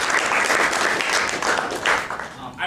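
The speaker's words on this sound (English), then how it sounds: "let's give a round of applause for John" An audience at a fall meeting applauds a person named John with steady, dense clapping that runs close and loud for the whole stretch, tapering slightly at the end.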